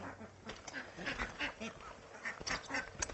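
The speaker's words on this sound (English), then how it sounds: "Put the ducks to bed." Farm ducks being put to bed for the night quack and honk in a steady overlapping chorus, moderately close and fairly faint, with no talking.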